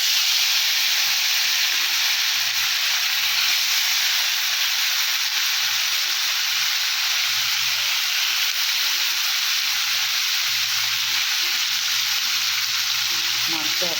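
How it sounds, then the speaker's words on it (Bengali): Morola fish sizzling in hot oil in a pan: a loud, steady, close frying hiss that runs unbroken throughout, with a faint low hum underneath. "মাছগুলো আস্তে আস্তে ছেড়ে দেবো, একটু হালকা ভাজা করে নেব"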